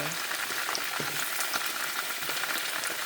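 Ginger and garlic fry in a pan with a bright, steady sizzle, close and constant, and faint stirring clicks cut through now and then.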